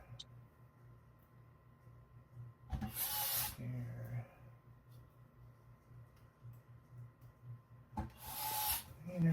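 A power screwdriver drives screws into a Nerf blaster frame in two short, loud whirring bursts separated by a quiet pause, over a low steady background hum.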